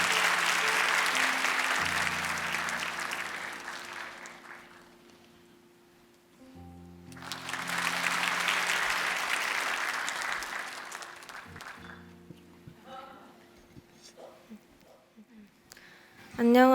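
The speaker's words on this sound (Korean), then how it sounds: "우리 박서영 자매 올라올 때 큰 박수로 격려해 주시기 바랍니다" A church congregation claps in encouragement as a high-school girl comes up. Two long swells of applause rise and fade, and a voice speaks quietly near the end.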